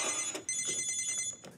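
After a number is dialed, a phone rings with a bright electronic trill that pulses in short bursts, loud and close, with no talking.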